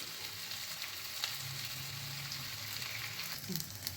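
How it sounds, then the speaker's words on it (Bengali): Pointed gourd pieces frying with salt and turmeric in a pan give a steady, close, even sizzle that runs the whole time, with a faint stir or scrape near the end. "নুন হলুদ দিয়ে ভালো করে পটলগুলোকে সুন্দর করে ভেজে নিতে হবে"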